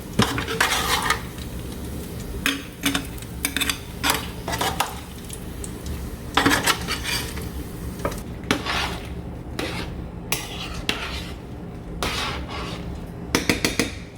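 Sausage going into a pot of red beans, with repeated clatter of metal utensils and pans, scraping and knocking in irregular bursts, close with no talk.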